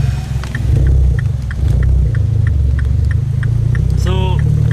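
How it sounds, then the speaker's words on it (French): A tuned small car's exhaust rumbles loudly and steadily throughout, close by on a Tokyo street, with a brief tonal whine near the end. "on entend le bruit du pot qui est incroyable"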